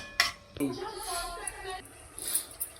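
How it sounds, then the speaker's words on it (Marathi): Fried chicken lollipops stirred into a thick gravy in a pan, with a few sharp utensil clinks against the pan and soft scraping and shuffling throughout, close up. "आता आपण हे फ्राय केलेले लॉलीपॉप त्यामध्ये टाकून घेऊया आणि स्टर करून घेऊया"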